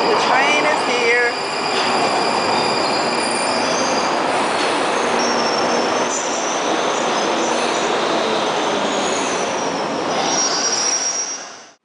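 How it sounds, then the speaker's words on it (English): A train rolls into a London station loudly, wheels squealing and rumbling steadily for several seconds before the noise cuts off. "The train is here."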